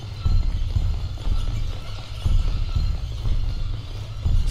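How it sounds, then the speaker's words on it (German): Footsteps in the horror video game Slender: The Arrival, a steady run of heavy rhythmic thuds on the ground with low rumbling ambience, no talking over them. "Ich höre Schritte"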